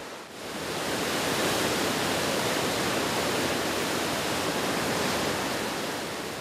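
Seawater surges through the opened tidal sluice gates of the Sihwa Lake seawall, a loud, continuous roaring rush of water that swells in quickly and holds steady with no voices.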